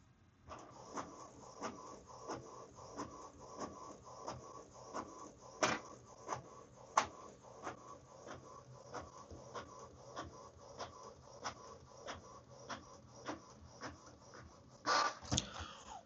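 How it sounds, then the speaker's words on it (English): A Canon Pixma TS5151 printer copies a document onto A4 paper from the front cassette, giving a steady run of rhythmic mechanical ticks and clicks with a few louder clunks near the end, heard close and alone. "let's press the copy button and wait for printer to do its"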